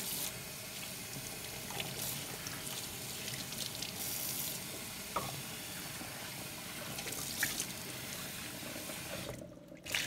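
Water runs steadily from a faucet as a pan is rinsed at a sink, with a continuous splashing rush, small clanks and shifts in flow, and a brief stop near the end.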